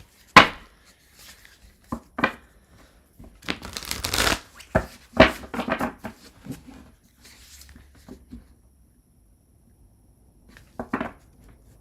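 Tarot cards being shuffled in quick riffling bursts, with pauses between, close and fairly loud, no talking.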